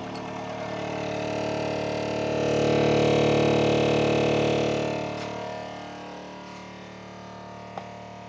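A 12 volt, 30-pound-thrust, five-speed trolling motor runs at top speed with a steady electric whine and hum that swells in the middle and then eases slightly.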